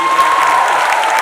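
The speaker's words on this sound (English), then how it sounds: "Huge round of applause for Karan Johar." Dense, continuous clapping from a large crowd, loud and sustained without any break.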